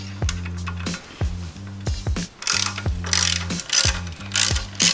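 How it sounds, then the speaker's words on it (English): A hand ratchet loosens a bolt on a Yamaha R6 motorcycle exhaust, producing close, loud bursts of rapid pawl clicks in repeated strokes, with no speech. "Now you go ahead and untighten this bolt down here."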